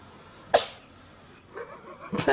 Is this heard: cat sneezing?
yes